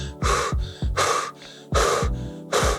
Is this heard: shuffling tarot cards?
no